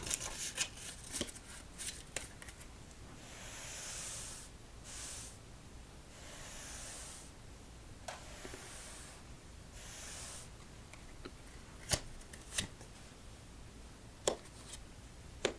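Playing cards are shuffled close up, with bursts of riffling hiss and sharp snaps and taps at irregular intervals.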